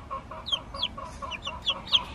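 Chickens clucking inside a small backyard coop on an urban farm, a faint, close, repeated series of short clucks and rising chirpy calls with no talking.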